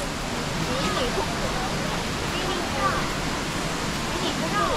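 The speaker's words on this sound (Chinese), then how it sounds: "这里也有个瀑布。" A steady, close waterfall roar at Shanlin Creek in Zhushan, Nantou, Taiwan, likely Songlongyan Falls, fills all five seconds with dense, even rushing water. Faint voices sit far beneath it.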